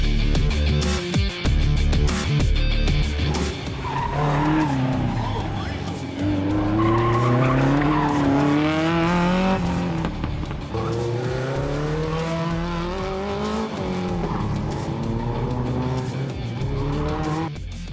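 Race cars at an autocross slalom skid and squeal their tires continuously, with rising and falling engine notes and shrill tire howls sweeping through corners, loud and sustained throughout.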